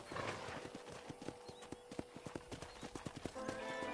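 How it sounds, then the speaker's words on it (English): Horse hooves clip-clop at a steady walking rhythm during a ride in the Red Dead Redemption video game, close and clear over a soft background, with a brief whinny near the start. "let's see if you can still ride a horse"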